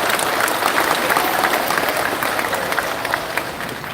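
Loud, dense applause from a large crowd at a rally held at a national work meeting, sustained clapping that holds steady and eases slightly toward the end.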